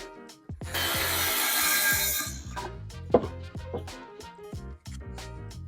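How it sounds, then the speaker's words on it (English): A saw cuts through an MDF shelf board with a burst of rough, dense rasping strokes, followed by scattered knocks, clicks and handling noises nearby, with no talk. "Okay, so let's cut our shelf. Now, we're working with MDF."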